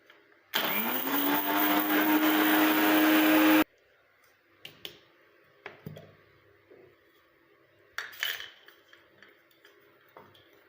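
Mixer grinder pulverising dried curry leaves into powder for a homemade hair dye, a loud steady motor whine running about three seconds then stopping abruptly, followed by scattered clicks and handling knocks.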